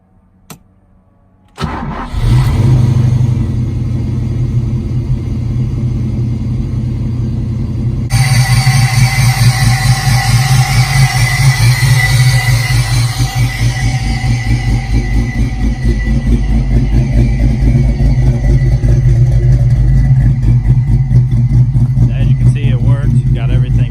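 A Ford Mustang Foxbody with a repaired starter solenoid sits quiet, then cranks briefly and catches, settling into a loud, steady idle that grows fuller partway through and keeps running throughout.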